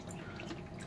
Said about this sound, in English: wash them in the water just for assurance not to have the shells